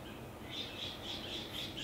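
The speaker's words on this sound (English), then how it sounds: "I think there's a lot of seagulls" Seagulls squawking in a rhythmic series of high, repeated calls, fairly faint over a broad wash of outdoor background noise.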